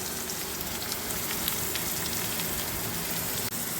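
Onion paste sizzles and spits in hot oil in a pan, a steady, fairly loud crackling hiss that runs unbroken throughout while chicken gravy is cooked, with no talking over it.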